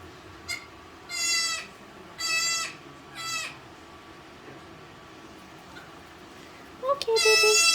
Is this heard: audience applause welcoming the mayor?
no